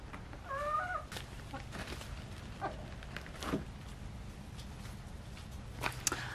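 Hens in a backyard coop make soft clucking calls, low and moderately close, scattered over a steady outdoor hum with a few faint knocks and rustles.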